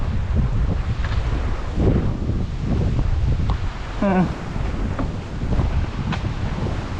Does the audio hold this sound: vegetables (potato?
no